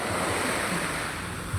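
Sea waves at a beach wash in a continuous loud broadband rush, with wind buffeting the microphone and no voices.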